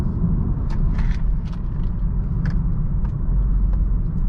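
Steady close cabin rumble of a 2020 BMW 330i taking a cloverleaf off ramp, with continuous low road and engine noise and a few faint clicks, no tire squeal or voices.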